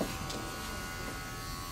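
Electric hair clippers fitted with a guard, buzzing steadily and close while trimming and blending a haircut, a continuous hum with no break.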